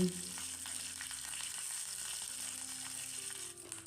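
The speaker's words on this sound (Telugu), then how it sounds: "రెండు రెమ్మల కరివేపాకు వేసుకుని ఫ్రై చేసుకోవాలండి" Spices and curry leaves crackle and sizzle steadily in hot oil for tempering coconut chutney, a continuous close frying hiss with no one speaking.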